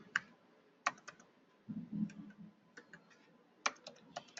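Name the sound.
typing on a computer keyboard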